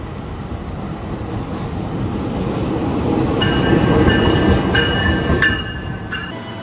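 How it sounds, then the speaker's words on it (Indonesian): A detached Purwojaya train locomotive rumbles steadily on the rails as it moves to change position, with a low continuous roar and faint high squeals from the wheels, fairly loud and nearby. "Lokomotif kereta Purwojaya sudah dilepas dari rangkaiannya, akan pindah posisi"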